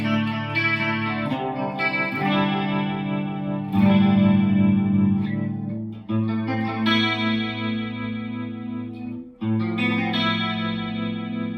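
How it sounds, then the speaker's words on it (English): Strat single-coil electric guitar runs through a Geno 60 chorus pedal in mono, giving shimmering, wavering chords and single notes with a lush 80s-style chorus, played alone at close, steady volume. "This Geno 60, this is just a chorus."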